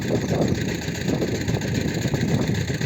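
Walk-behind mini tractor fitted with a rotary tiller, weeding between pumpkin rows, its engine running steadily and loud and close, with wind buffeting the microphone and no talk.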